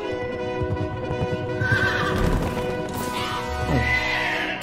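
A horse neighs loudly from the headless horseman's mount in the Pumpkin Jack video game, a shrill whinny rising over clattering game effects and music, with a second snort-like call near the end.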